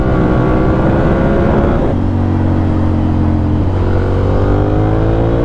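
A 2014 Ducati Monster 696 engine revs loud and close as the motorcycle accelerates out of a corner, its pitch climbing, dropping at a gear change, then rising again.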